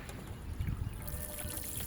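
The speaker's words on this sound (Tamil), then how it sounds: "தண்ணி கொடுத்துறேன் நண்பர்களே" Water splashes and trickles as it is poured by hand onto chilli plants growing in containers, a brief close pour over soft, damp background.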